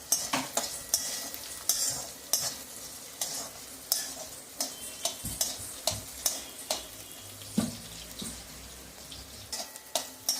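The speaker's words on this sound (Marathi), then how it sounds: "आपली मिरची, बटाटे, शेंगदाणे अतिशय व्यवस्थित तळल्या गेलेले आहेत" Chillies, potatoes and peanuts frying in oil for sabudana khichdi, a soft sizzle under frequent sharp scrapes and clinks of a spoon stirring against the pan in an irregular rhythm, close by.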